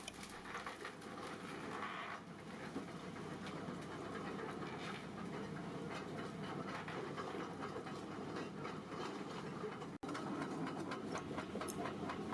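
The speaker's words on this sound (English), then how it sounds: "The bursting head enters the hose pipe and the pipe bursting starts." Pipe bursting machine pulling a bursting head through an old sewer pipe four meters underground during a city street sewer rehab: a steady, dense mechanical drone with faint rhythmic clatter, continuous and distant-sounding, with one brief dropout near the end.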